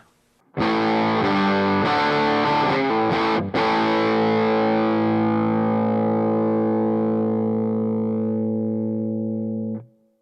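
Distorted electric guitar chords are struck a few times, then one big chord rings out compressed and sustained for several seconds before being cut off, played through a Bluguitar Amp1 with a power soak reducing volume.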